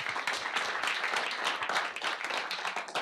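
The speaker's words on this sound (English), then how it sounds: "Great round of applause." A meetup audience at an SF Python event gives a round of applause to welcome a speaker: dense, steady clapping from a full room lasting about three seconds.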